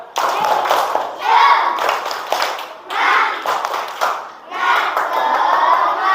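An Indonesian class doing a rhythmic spirit clap, several loud bursts of group clapping in a patterned beat with voices shouting along between claps.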